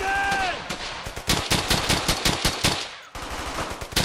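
Rapid bursts of machine gun fire in the World War II shooter game Brothers in Arms: Hell's Highway, loud and close, with a brief pause midway before the chatter resumes.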